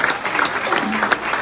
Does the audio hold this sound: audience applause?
yes